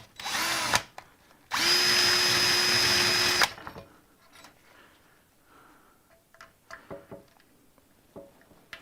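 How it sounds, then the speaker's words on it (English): A power drill fitted with a drill bit bores into a motorcycle exhaust during a restoration, a short whine followed by a longer steady high-pitched run, then quiet clicks and handling noises. "Maybe not using the right size drill bit here."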